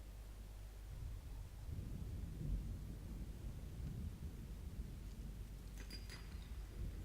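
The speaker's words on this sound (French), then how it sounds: "qu'il y a de l'orage là-bas, il y a de l'orage" Thunderstorm in the video game Subnautica Below Zero: a faint, continuous low rumble with rain-like hiss, steady throughout, with a few brief light clinks near the end.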